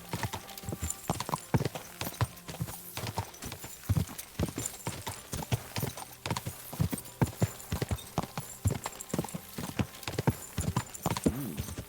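A horse gallops in Kingdom Come Deliverance 2, rapid, rhythmic hoofbeats pounding close and steady throughout, with a brief whinny.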